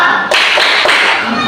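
Classroom of children doing a tepuk gasing clapping pattern, several sharp group claps in a short rhythmic sequence, loud and close.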